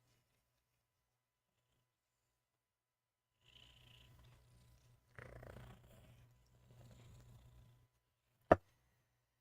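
A cat purrs softly and steadily at close range, a low continuous rumble in a quiet room, with a brief sharp knock near the end.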